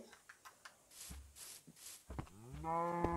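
A cow moos in Minecraft Pocket Edition: one long, drawn-out low moo rises near the end, after a few soft clicks and footstep taps.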